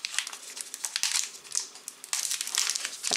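A multigrain Rendi candy bar with dark glaze has its plastic wrapper torn open, giving close, irregular crinkling and crackling bursts with brief pauses and no voices.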